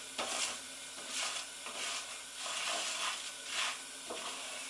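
Orzo pasta toasting in a pan for a warm pasta salad, giving a steady soft sizzle with repeated scraping stirs at a regular rhythm, close and moderately loud with no talk.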